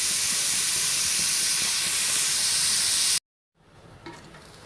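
Chopped carrots fry in a pan for egg fried rice, giving a loud, steady sizzling hiss up close that cuts off abruptly and then gives way to quieter stirring sounds.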